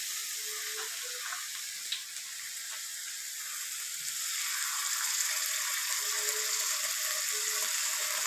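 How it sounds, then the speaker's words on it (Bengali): Chicken sizzling in a pan as tomato sauce goes in: a continuous bright sizzle and hiss that swells slightly louder in the second half, with a few small clicks and no talking. "ঘরে আজকে টমেটো নেই বলে টমেটো সসটা দিচ্ছি"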